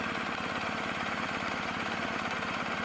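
A BMW GS1250 Adventure from 2019 runs in Rain riding mode, its engine a steady, close, even thrum with a fine rapid pulse and dense buzzing texture, unchanging throughout, with no talking.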